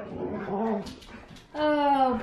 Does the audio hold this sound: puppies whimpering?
yes